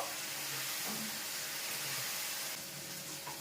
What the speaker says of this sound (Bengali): এবার কষাতে থাকবো।